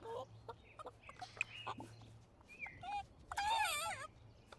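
Chickens cluck and squawk in a chicken coop in the Cottage Living video game, with scattered calls and a louder burst near the end over a low steady hum.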